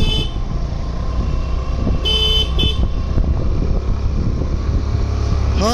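A vehicle horn toots on a winding mountain road with turns, a couple of short bursts sounding over a continuous engine rumble and road noise.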